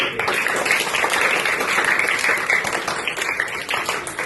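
Steady applause from a school audience at a government school function in Badami, many hands clapping together in a dense, sustained burst that tapers slightly toward the end.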